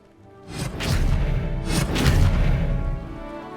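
Magic spell effect in a wizarding game: two heavy whooshing booms a second apart, each swelling into a rumbling blast that lingers, no voices over them.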